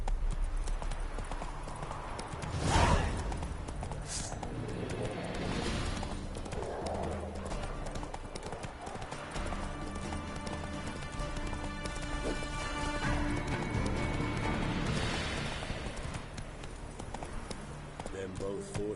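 A horse gallops with steady hoofbeat clip-clop in The Witcher video game, heard under a game soundtrack and spoken narration, with a brief loud burst early on.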